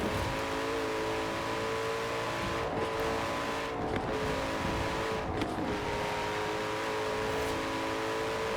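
Car engine from the racing game Forza Horizon 4, a steady sustained drone that holds near one pitch with faint shifts, loud and continuous with no talk.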